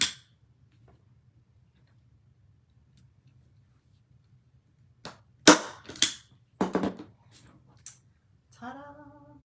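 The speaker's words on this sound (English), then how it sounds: "you're going to need a staple gun because that stuff is a little harder" A staple gun drives staples into fabric in a quiet room, giving a handful of sharp, loud snapping clacks in an uneven cluster after a long near-silence, followed by a brief voice.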